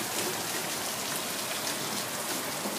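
Heavy rain pours down steadily and loudly, a dense continuous hiss of drops hitting surfaces with no voices.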